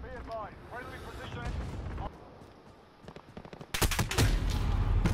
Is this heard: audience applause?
no